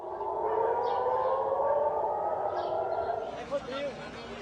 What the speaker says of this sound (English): Sirens were heard wailing across Jerusalem early on Thursday